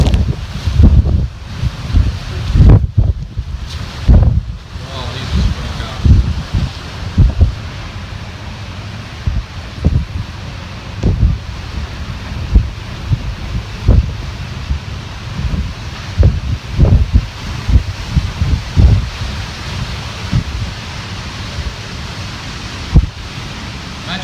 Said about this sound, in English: There's been some massive gusts come through.